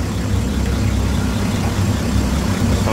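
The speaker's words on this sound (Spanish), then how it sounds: "Estamos dando marcha atrás aquí con el coche" A car engine rumbles loudly and steadily as the car reverses away from an approaching lion on a South African safari drive, a close, continuous low drone with no voices over it.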